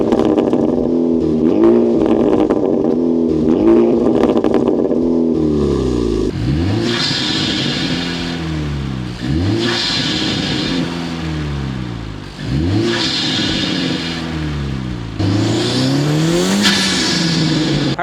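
A Honda Civic Type R FK8 with an AWE exhaust and PLM parts revs loudly and close by, the engine sweeping up and down in repeated blips and pulls with no talking over it.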